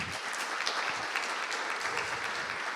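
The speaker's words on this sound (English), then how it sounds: "let's have a big round of applause for Brian" Audience applause at a game artist panel at Gnomon greets a panelist: dense, steady clapping from a crowd, fairly even and sustained across the whole span with no speech over it.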